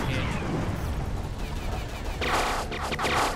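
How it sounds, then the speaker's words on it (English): Torpedo strikes hitting a ship in the Treasure Planet: Battle at Procyon video game, a dense, continuous barrage of explosive impacts and crashing booms that swells louder near the end. "Oh, shit! Torpedoes!"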